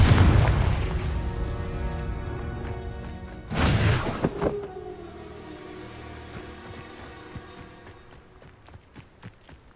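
Incendio and Confringo spell blasts from the Hogwarts Legacy video game: a dense burst of fiery rumble at the start, then a second sharp explosive blast, followed by fading crackles and light footstep-like taps.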